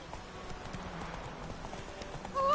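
Roach, the horse in The Witcher 3, trots in a steady clip-clop of hooves at moderate volume under game ambience, with a brief tonal whine rising near the end.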